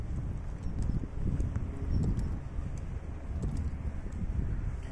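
Outdoors in a park, gusty wind buffets the microphone with a steady low rumble that swells and eases in waves, fairly loud and continuous, with no voices.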